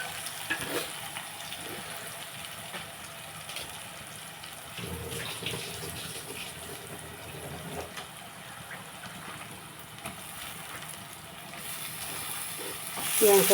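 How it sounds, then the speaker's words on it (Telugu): Cut brinjal pieces dropped into hot oil in a pan and stirred for a curry, a steady close sizzle and hiss that runs throughout with soft scraping, swelling louder in the last moments. "ఇప్పుడు మనం వంకాయలు కట్ చేసి పెట్టుకున్న వంకాయలన్నీ ఇందులో వేసేసుకుందాం"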